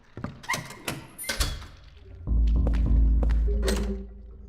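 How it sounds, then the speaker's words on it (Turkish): In Silent Hill 4, a series of sharp knocks on a door comes first, followed by a heavy, low rumbling thud and more knocks, all loud and with no talking. "Kim çalıyor kapıyı?"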